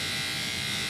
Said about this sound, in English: Remy, your tummy's bouncing while I'm trying to clipper it.